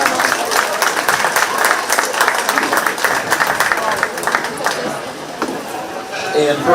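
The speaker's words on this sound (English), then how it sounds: "Let's give her a big round of applause." An audience at a 4-H/FFA sheep show at the Shelby County Fair applauds a young exhibitor, a dense, continuous patter of clapping that carries on for several seconds with crowd murmur beneath.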